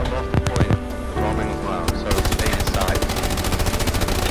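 Loud close machine gun fire in a video game battle: a few scattered shots, then a sustained rapid rhythmic burst hammering steadily to the end, with brief vehicle rumble beneath.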